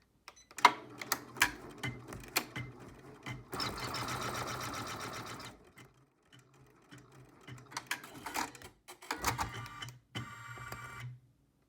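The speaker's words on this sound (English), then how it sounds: "With your hoop back on the machine, stitch out step 2 of the stitch map to tack down the fold-over elastic or ribbon." An embroidery sewing machine stitches a tack-down step, holding fold-over elastic or ribbon on a vinyl zipper pouch. It gives quiet, close bursts of rapid mechanical clicking and whirring, separated by short pauses and near silence.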